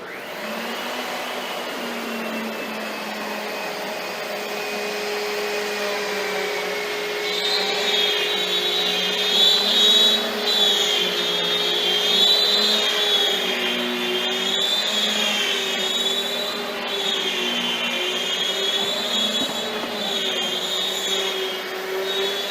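A ShopBot CNC router cutting MDF with a vacuum running gives a steady, loud, whining drone. Its pitch shifts and rises partway through and stays continuous with no talk.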